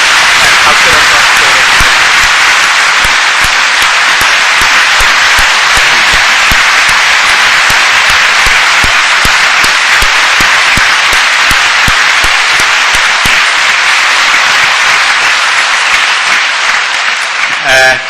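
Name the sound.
congregation applause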